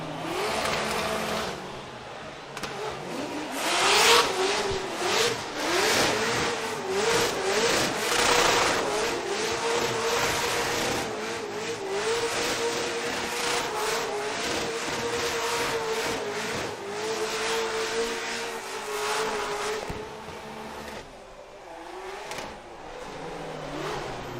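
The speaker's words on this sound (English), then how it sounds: "We'll bring the two vehicles front and center." Drift race cars at Formula Drift Long Beach rev and idle up close, engines rising and falling in loud wavering pitch with rapid burbling pulses throughout, tapering off near the end.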